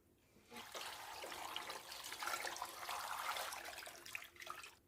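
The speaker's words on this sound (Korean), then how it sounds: "이렇게 갈비가 잠길 정도 물을 붓고" Cold water pours steadily from a tap into a container of four kilograms of beef short ribs set to soak, a close splashing rush that keeps going for several seconds at moderate level.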